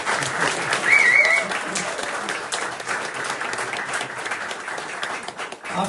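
A big round of audience applause for Master Alankar at a Sholay 50th-anniversary event, steady crowd clapping throughout with a brief whistle early on and faint voices mixed in.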